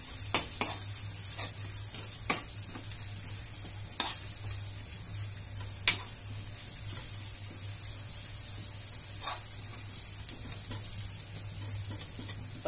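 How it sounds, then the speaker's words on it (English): White onions sauté in a pan for chopsuey, giving a steady quiet sizzle throughout, with occasional sharp clicks and taps of a utensil against the pan and no talking. "Palambutin lang natin yung white onions natin."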